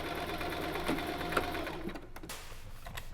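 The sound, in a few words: sewing machine sewing dress seams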